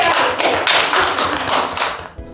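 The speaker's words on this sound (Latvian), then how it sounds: "Gandrīz pareizi, aplausi." Applause from a small group at a children's club game show in Latvia, a brisk patter of clapping hands that stays fairly loud, then cuts off abruptly near the end.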